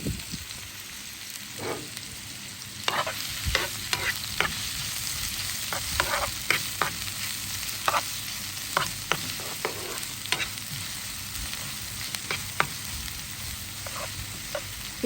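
Chopped onion and garlic sizzle in a hot pan with oil, a steady close frying hiss broken by repeated scraping clicks of a stirring spoon, no talking.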